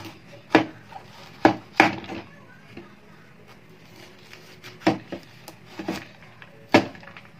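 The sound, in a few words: slicing peeled laswa vegetables with a knife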